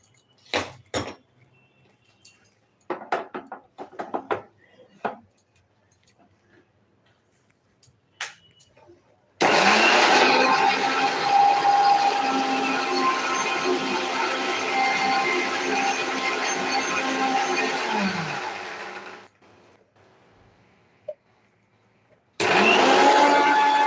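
A kitchen mixer grinder crushing tomatoes and spices: scattered clinks and taps, then a loud, steady whirring grind for about ten seconds that cuts off, followed by a brief second burst.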